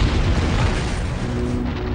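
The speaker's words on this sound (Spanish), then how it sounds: "esa presión provoca que el asteroide o el cometa exploten" A documentary sound effect of an asteroid exploding in the atmosphere makes a loud, sustained, roaring boom that rumbles on for two seconds without easing, with no voice.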